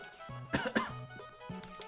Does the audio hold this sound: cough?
yes